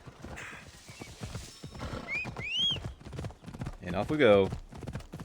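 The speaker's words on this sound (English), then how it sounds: "Horsey." Hooves clop and a horse whinnies twice in a video game, heard under someone talking over the action.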